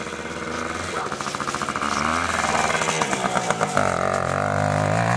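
A motorcycle engine runs nearby, revving and sputtering in uneven pulses before dropping back as the rider struggles to bring it to a stop, with voices talking over the engine.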